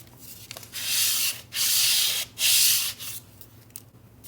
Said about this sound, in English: just rub it on this edge of my desk to get the curve out of it a bit